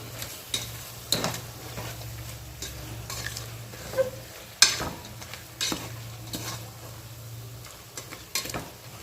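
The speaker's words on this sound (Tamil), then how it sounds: "ரெண்டு மிக்ஸ் பண்ணிக்கணும் அந்த மிளகாத்தூள் இஞ்சி கொண்டோட இந்த மட்டனையும் நல்லா மிக்ஸ்" Mutton mixed with salt, chilli powder and ginger is stirred in a pan, with repeated spoon scrapes and knocks against the metal over a soft sizzle, steady and close.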